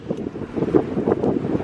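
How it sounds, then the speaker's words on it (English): Strong outdoor wind buffets the microphone in the Cotswolds countryside, making a loud, rumbling, gusty roar that swells and dips irregularly throughout with no speech over it. "Sorry, it's super windy"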